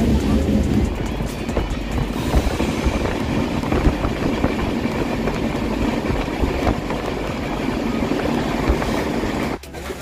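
Dhauli Express passenger train running from Shalimar toward Puri in rain, heard from inside as a loud continuous rumble and rail clatter that dips abruptly near the end.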